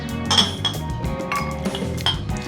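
Glasses clink together during a toast at a home dinner where a chef is cooking, with a few short bright chinks against a busy, clattering background of dishes and cutlery.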